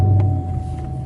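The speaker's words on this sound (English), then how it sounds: "This is the standard exhaust, but it still sounds pretty good." A Chevrolet Camaro SS (sixth generation) with its standard exhaust idles nearby, a deep, steady low rumble with a faint engine hum above it and no talk.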